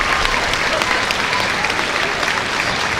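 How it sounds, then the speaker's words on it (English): A crowd at the 2024 World Ninja League Championships cheers and applauds an elite female athlete, dense continuous clapping and roar filling the whole stretch at a loud, steady level. "Crowd's cheering her on."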